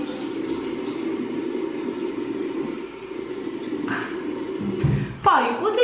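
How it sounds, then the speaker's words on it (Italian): Tap water runs in a steady, close wash at a sink as a face is wetted, ending in a short burst of splashing. "Prima di tutto vado a bagnare il viso, quindi bagno bene il viso"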